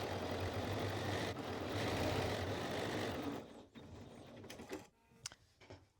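A sewing machine stitches down the long side of a narrow dress strap on a Cashmerette Wayland dress, running faint and steady for a few seconds before stopping, followed by a few small clicks.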